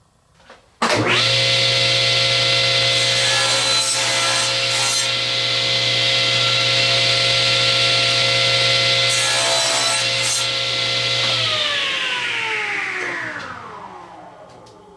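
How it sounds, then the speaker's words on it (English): A table saw spins up sharply and cuts through the end of a glued laminated wood lure blank, its loud steady whine carrying short cutting surges before winding down at the end. "Now what we need to do is take this to the table saw, and we're going to square off our ends"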